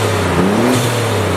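A straight-piped twin-turbo Nissan 300ZX engine with blow-off valves idles and revs briefly with a deep, rough exhaust rumble, close by and steady.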